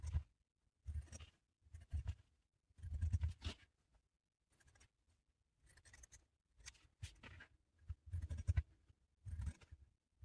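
Paper is cut with scissors for a self-closing journal cover: a quiet, close series of repeated snipping and rustling strokes in uneven bursts, separated by brief pauses.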